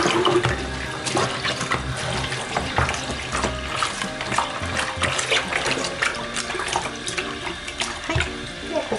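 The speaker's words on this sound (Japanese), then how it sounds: "押すようにしてしっかりと流すすぎ洗いをしてください" A cloth mask is rinsed under a running tap, with a steady splashing rush of water and irregular sloshing bursts as the fabric is pressed in the stream.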